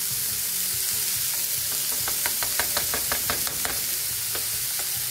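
Garlic sizzling in a hot pan, a constant loud fry with a burst of scraping stir strokes in the middle, close and without talk.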